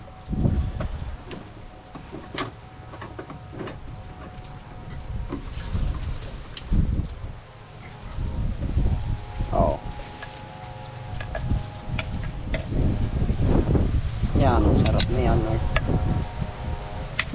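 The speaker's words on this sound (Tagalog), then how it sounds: "lakas lang po ng hangin" Steady wind buffets the microphone with low rumbling gusts, while people talk nearby and occasional knocks and creaks come through.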